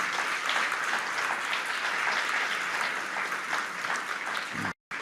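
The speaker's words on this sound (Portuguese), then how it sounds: "Aplauda o Senhor." A church congregation claps steadily through a Sunday service sermon, a dense continuous wash of applause at even volume that cuts off abruptly near the end.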